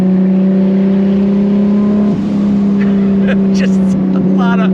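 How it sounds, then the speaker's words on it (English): A Nissan Skyline R34 GT-R engine drones steadily while driving, a loud constant in-cabin hum with a brief dip in pitch during a gear change, with faint chatter in the background. "This is the first time I've ever driven an R34 GT-R."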